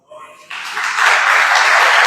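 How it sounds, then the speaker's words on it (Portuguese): Applause from a church congregation rises quickly from a few claps into loud, sustained clapping from a large crowd. "você pode agradecer aplaudindo o Senhor?"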